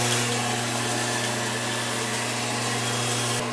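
A bathroom fan light runs with a steady, even hum and a broad whooshing rush, continuous and fairly close, with no talking.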